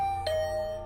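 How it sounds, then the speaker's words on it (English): A doorbell in the video game Hundred Line Last Defense Academy rings once, a soft ding-dong tone that hangs briefly over a steady low background hum. "if you're the killer, thanks for ringing the doorbell"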